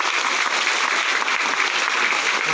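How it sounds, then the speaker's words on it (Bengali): An audience at a children's drawing exam event in a village hall breaks into loud, dense applause, a continuous roar of many hands clapping close by without pause. "তাদের জন্য একটা সব থেকে জোরে হাততালি দিয়ে দেখাটা দেখি"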